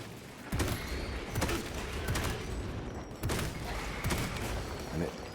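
The Stalker Bolt rifle, a marksman-style bolter in the Warhammer game Space Marine II, fires several sharp, punchy shots at irregular intervals over constant battle noise, with voices talking underneath.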